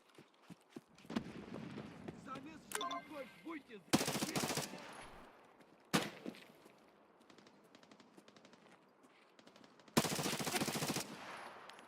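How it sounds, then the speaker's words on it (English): Loud bursts of SVD sniper rifle gunfire in the video game Escape from Tarkov, several sharp broadband cracks with echoing tails spread over the span, with scattered game noises and movement between shots. "That sounds like an SVD."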